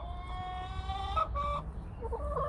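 Farm hens cluck and squawk in a quick series of rising calls, fairly close and moderately faint, with a louder burst partway through.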